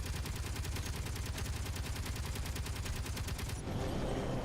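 Continuous rapid-fire gun in the video game Space Engineers, a steady loud stream of evenly spaced shots for several seconds that suddenly gives way to a dense, muffled roar.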